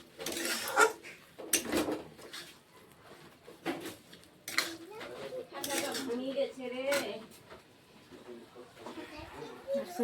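A utensil scrapes and clinks against a pan as a pitha mixture is stirred constantly over low heat, in irregular knocks and scrapes, with a person talking throughout.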